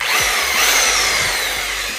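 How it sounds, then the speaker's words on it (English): An electric impact driver works on lug nuts of a 2020 Jeep Grand Cherokee Limited X, a loud continuous whirring motor with a few rattling impact knocks, close up and without talk. "And then we also have an electric impact drive."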